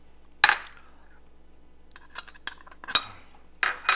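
A utensil mixing spice masala into a radish filling for stuffed paratha, a handful of sharp clinks and scrapes against a bowl separated by quiet gaps.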